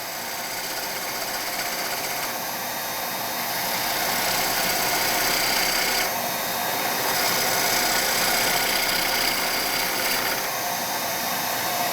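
A wood lathe turns a large natural-edge bowl held on a vacuum chuck, giving a steady, loud, hissing whir of spinning wood and tool contact that swells slightly midway and continues without pause.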